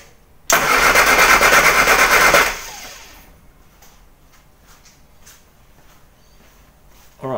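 A Morris Mini Cooper engine cranks over on the starter for about two seconds during a cylinder compression test, loud and steady, then cuts off into quiet with faint clicks and a short burst at the end.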